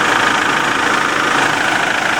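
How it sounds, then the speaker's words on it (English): A common rail diesel engine idles with a steady, loud, even clatter and no voices. "It's much quiet than old school diesel engine. Still noisy, but it's got better."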